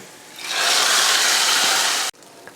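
Hot tempering is poured into beetroot sambar, setting off a loud, hissing sizzle that rises quickly, holds for about a second and a half, then cuts off abruptly, leaving near silence.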